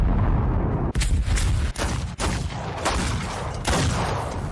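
Battle in a 20th-century war anime: heavy clipped gunfire and explosions in rapid, overlapping bursts, several sharp cracks breaking a loud continuous roar of combat, with no speech.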